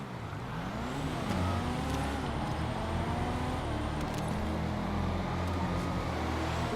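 Two all-motor trucks race in GTA 5, their engines droning loudly and steadily with rising revs as they accelerate together through the run.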